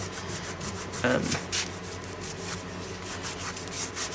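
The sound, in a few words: smoothing glued paper in an art journal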